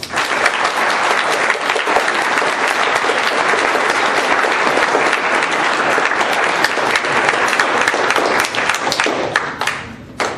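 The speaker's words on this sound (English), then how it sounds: "Let us give our new Eagle Scout one more round of applause" A large crowd at an Eagle Scout ceremony applauds loudly and steadily for about ten seconds, the clapping dense and sustained before tapering slightly at the end.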